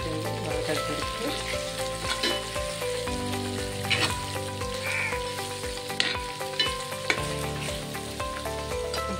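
Chicken curry masala frying in a pan makes a continuous crackling sizzle with occasional stirring clatters, over a low tonal hum from nearby appliances.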